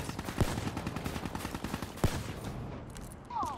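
Rapid automatic gunfire in a first-person shooter video game, a steady rattling burst with two sharper, louder shots standing out, close and loud with no talk over it.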